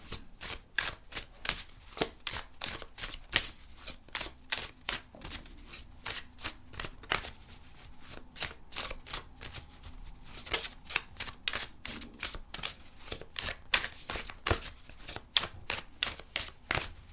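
Tarot cards are shuffled and pulled from a deck, with rapid bursts of crisp riffling and snapping cards repeating in quick, uneven runs close up and without talk throughout.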